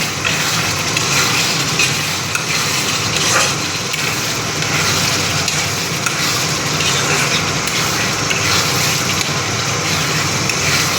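Meat frying in a pan, a steady dense sizzle and crackle holding at an even level throughout with no pauses and no talk over it.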